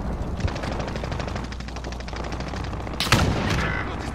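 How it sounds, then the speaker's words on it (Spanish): Rapid automatic gunfire from a shooting video game crackles steadily throughout, with a louder nearby burst of shots near the end over constant game background noise. "Me dispararon"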